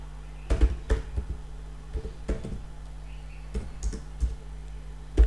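Rapid computer keyboard typing with irregular bursts of key clicks, close and fairly loud, while a JSP form heading for a student registration system is written; no voice.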